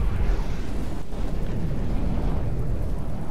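Weapons fire during a naval battle in the game From The Depths, a heavy, continuous rumbling roar of blasts and booms with no voices heard.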